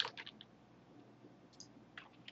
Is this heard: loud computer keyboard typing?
yes